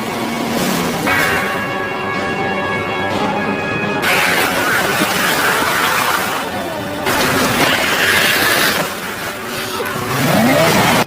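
Glass shot and shattering in a zombie action film scene, a dense sustained crash and debris roar with engine-like rumble running continuously for several seconds, loud and without speech.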